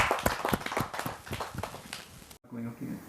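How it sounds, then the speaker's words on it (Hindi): An audience at a Hindi poetry gathering claps loudly to welcome a poet. Dense, steady clapping runs for a little over two seconds, then cuts off abruptly as a voice begins. "जोरदार ताली के साथ हम उनका स्वागत करते"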